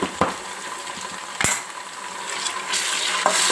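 Ginger garlic paste fries with golden brown onions in a pan for a mutton head curry, giving a steady soft sizzle. A few sharp clinks of a spoon against the pan break in, and nobody speaks.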